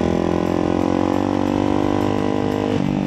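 A 2024 Ducati Hypermotard 698 RVE motorcycle engine runs loud and close at a steady idle-like drone with strong harmonic tones, dipping briefly in pitch just before the end, with no talking.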